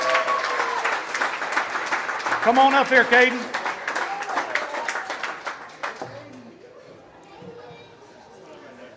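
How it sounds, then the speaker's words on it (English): A room full of people applauds the player of the game at a homecoming high school football coach's show, with loud, dense clapping and crowd chatter and children's voices, as a man calls the player forward. "Everybody give him a big round of applause."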